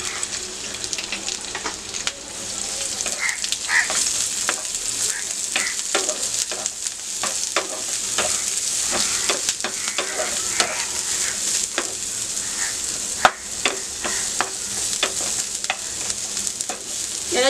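Six garlic cloves and a small onion fry in a spoonful of oil, stirred with a spoon: a steady close sizzle runs throughout, broken by scattered scraping clicks, with no voices.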